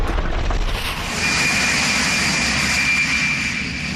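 Gulfstream business jet engine roaring steadily and loudly, a continuous close whine and rumble that holds for several seconds without pause.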